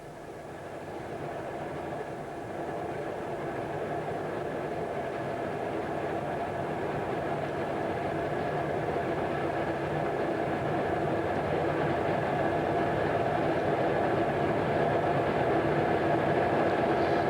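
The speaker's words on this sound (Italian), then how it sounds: "Il treno ora viaggia a 120 km l'ora." Train on the Drautalbahn railway line travelling at 120 km/h, giving a continuous loud rolling rumble and rail noise that builds slightly and holds steady throughout, with no voices.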